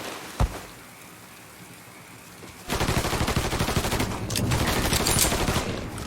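Enemy gunfire in Mafia III: a single loud shot, a quiet pause, then rapid sustained automatic bursts that fill the second half.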